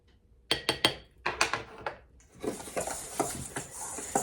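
Spoon stirring a craft mixture with a few drops of oil in a small container, a run of quick clinking scrapes close by, steady and rhythmic, with no talking.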